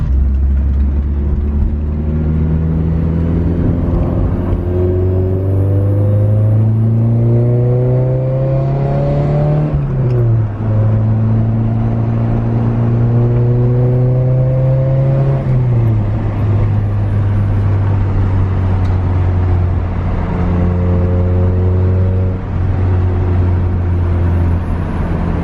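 A Honda Prelude on YONAKA coilovers drives along back roads, its engine droning steadily from inside the car, rising in pitch through the gears with shifts around ten and fifteen seconds, then settling into a constant cruise.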